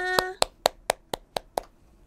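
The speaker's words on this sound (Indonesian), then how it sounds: "yang senang bisa tepuk tangannya" Members of a children's church congregation clap hands in a short rhythmic run: seven sharp, evenly spaced claps close to the microphone, preceded by a brief sung note.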